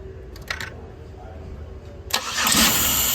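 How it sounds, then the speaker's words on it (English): A used car engine cranks and fires up during an EGR and PCV valve check, catching abruptly into a loud, steady idle after a short stretch of quiet shop hum. "All right, Ian's gonna start it up"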